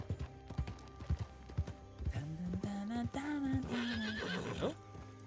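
A horse in the RedM video game lets out a long, rising and falling whinny over clip-clopping hooves, with speech mixed in.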